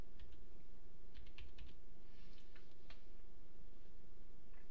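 Computer keyboard typing in short bursts of quick, light clicks with pauses between, faint and close against a steady background hum.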